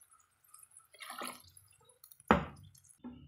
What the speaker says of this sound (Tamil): மிக்ஸி ஜார்லேயே கொஞ்சம் தண்ணி சேர்த்தி கலந்துக்கிறேங்க